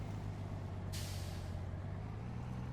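A truck air brake in Farming Simulator 19 releases a sharp, loud hiss about a second in, lasting under a second over a constant low engine drone.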